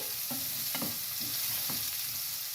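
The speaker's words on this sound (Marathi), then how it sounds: "जरा गॅस बारीक करते आणि छान याला ढवळून घेते." Spice tempering fries in a pan over a lowered gas flame, a steady soft sizzle broken by a few scraping stir strokes, with no talking.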